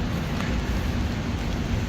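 Steady rain falls outdoors in the UK, a dense, even hiss of drops with a low rumble underneath, continuous and fairly close.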